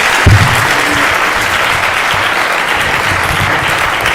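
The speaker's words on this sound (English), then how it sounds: "Once again, big round of applause," An audience at a Chandler Police Department cyber security program applauds, producing a continuous wash of clapping from many hands with a brief louder burst near the start.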